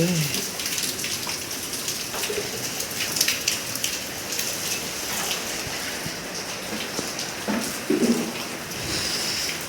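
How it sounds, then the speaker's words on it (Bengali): Heavy rain pours down steadily, a dense close hiss of drops drumming on surfaces, with a few brief faint sounds in the background. "খুব জোর বৃষ্টি পড়ছে।"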